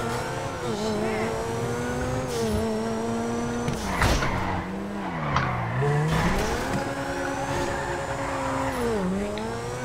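A supercar in GTA V drifts and skids, with continuous loud engine drone rising and falling in pitch, tire squeal woven through, and speed shifting through the turns over the full stretch.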